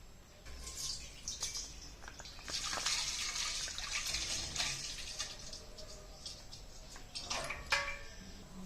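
Milk pours into a pot for semiya payasam, a steady liquid splash and trickle that is faint and close, with a few brighter surges along the way.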